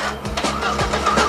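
A Volvo S40 race car engine cranks reluctantly before catching, with a few uneven churning pulses and a mid-pitched mechanical drone, loud and close.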